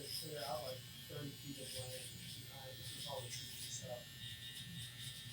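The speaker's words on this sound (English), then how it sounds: "With the small blade, these are just an unbeatable trimmer." Electric hair trimmer fitted with a small blade, buzzing steadily through a fade haircut, with someone talking continuously over the hum.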